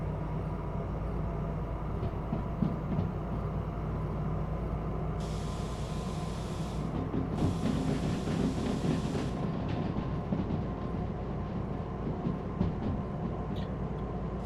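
A freight train rolling along rails in Derail Valley, with a continuous low rumble and rattling wheel noise under a steady hiss, plus occasional higher-pitched bursts, and no voices.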